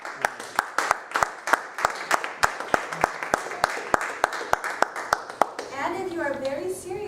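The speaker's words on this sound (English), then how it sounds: "Let's give one more round of applause." Hands clap in a slow, evenly spaced rhythm at a speech-evaluation club meeting, about a dozen distinct crisp claps, followed by chatter and a voice.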